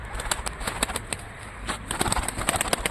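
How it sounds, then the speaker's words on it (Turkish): Rapid wing flaps come in quick bursts with pigeons cooing nearby, against a steady outdoor hiss. "kanat çırpacağım diye hayvan kendini heder ediyor bak"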